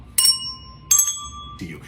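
A traditional handbell is rung twice with clear, bright metallic strikes that ring on and fade, followed by a softer third stroke, close and alone without talk.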